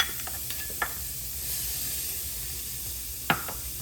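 Onion and soy protein sautéing in a pan, a soft continuous sizzle and hiss with a few sharp utensil knocks and scrapes near the start and end, close but fairly quiet.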